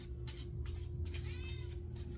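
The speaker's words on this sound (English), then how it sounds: "This cat needs to chill." A cat lets out a drawn-out meow with a rising and falling pitch, clear and fairly close, over a steady low background hum with no talking.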